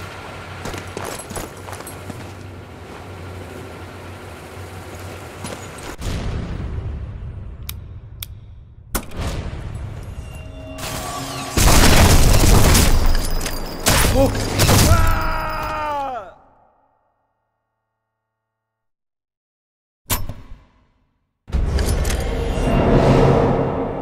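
Bombing raid in the stealth shooter Sniper Elite 4: heavy booming blasts and loud rumbling bursts hit in waves, with a sudden silent gap before another loud stretch of explosions.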